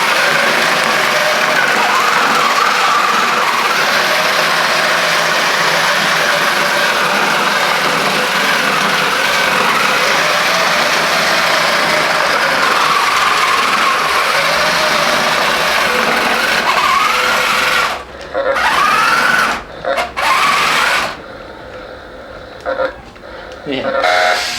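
A small wheeled robot named RAD driving in high gear, its motor giving a steady loud high-pitched whine that runs without a break, then cuts in and out near the end, with a voice talking over it.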